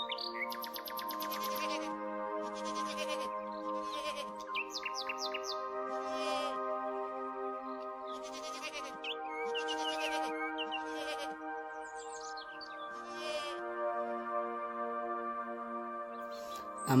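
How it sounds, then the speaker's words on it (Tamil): Sheep and lambs bleat repeatedly, with clear harmonic calls that overlap one another close by, mixed with high chirping bird calls in the background. "நம்ம ஆடுகள் எல்லாம் அமைதியா இருக்கு"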